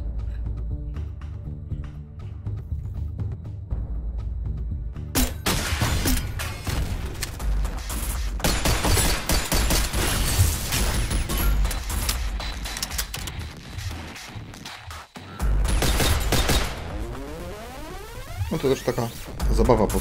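Gunfire and explosions crackle and boom in the video game Synthetik, with bursts of shots, crashes and impacts layered over game music and effects in a loud, busy mix.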